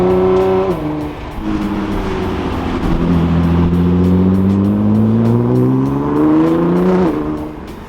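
A car driving on the road with a steady engine drone that rises and falls as it shifts and accelerates, heard from inside, with no talking.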